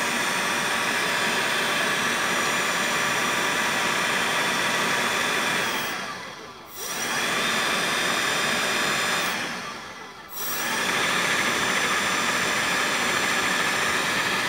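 Steady, airy whine from a 48V 1500W brushless gear reduction motor with a cooling fan, running close by and briefly dipping twice in level before returning to its constant drone.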